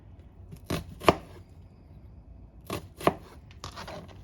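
A knife chops salad vegetables on a cutting board in sharp, close taps, clustered in two quick pairs about two seconds apart with a lighter cut at the end, clear in a quiet room with no speech.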